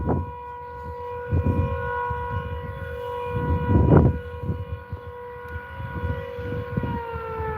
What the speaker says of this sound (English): There we go, there's the siren.